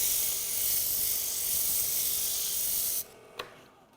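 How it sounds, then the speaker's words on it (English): Light hand sanding of burned wood on a lathe-turned gardening dibble: a steady, fairly loud abrasive hiss runs for about three seconds, then cuts off, leaving one brief scrape and a quiet tail. "what'll make it crisper is to come back and sand just real lightly again"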